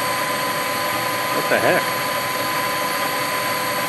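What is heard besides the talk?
engine running on wood gasifier fuel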